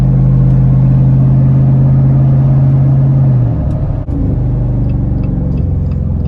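A Jeep Wrangler JL Rubicon 392 rolls slowly into a car lot, its engine giving a steady low rumble close by that shifts and dips briefly before settling back into a smooth idle-like drone.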